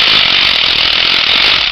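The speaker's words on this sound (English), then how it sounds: "feather the drill so that you can get the bit to bite." Rock drill boring an anchor bolt hole into a rock face while the bit is feathered to bite, a loud continuous high-pitched grinding roar that holds steady and close throughout.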